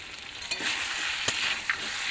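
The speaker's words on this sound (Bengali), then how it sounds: "এবার আমি আদা বাটাটা দিয়ে দিচ্ছি।" Ginger paste frying in a pan gives a steady, close sizzle with a few brief stirring scrapes rising above it, and no talking.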